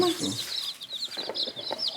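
Hens cluck and chirp in short, overlapping bursts close by, with a few soft background sounds between calls.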